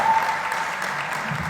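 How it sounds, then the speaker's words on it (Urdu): An audience at a youth general assembly applauds, a dense, even wash of clapping that holds steady and fairly loud throughout. "آپ کو خاص طور پہ تالیاں بجانی چاہیے"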